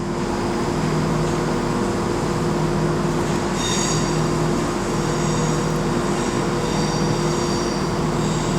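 Turbostar diesel train arriving at Birmingham New Street station on the West Coast Main Line, a loud, steady engine drone with high wheel squeal coming in partway through.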